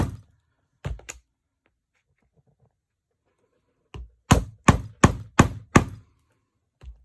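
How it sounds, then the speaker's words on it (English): Cutting blows chop through plastic and fabric from a recycled political sign: a few sharp thwacks early, then a quick run of five loud, close whacks after a quiet gap. "Like five whacks is good to get through this plastic and the fabric."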